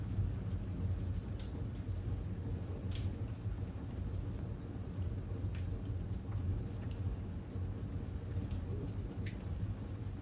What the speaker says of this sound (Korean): 바깥에서 들리는 부드러운 빗소리를 들어보세요